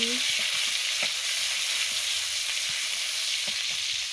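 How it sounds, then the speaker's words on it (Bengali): Garlic paste frying in hot oil in a pan, a steady loud sizzle throughout with occasional soft stirring clinks, no voices. "তেল গরম হয়ে গেছে, আমি রসুন বাটাটা দিয়ে দিচ্ছি, দিয়ে ভালো করে ভেজে নিচ্ছি।"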